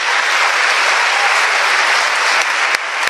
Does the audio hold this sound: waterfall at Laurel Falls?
no